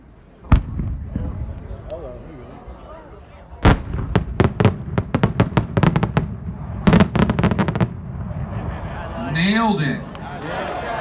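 Firework shells at a daylight winter display go off as sharp, loud booms, starting with scattered single reports and moving into a rapid cluster of bursts that ends with a heavier bottom shot, while people talk and cheer nearby.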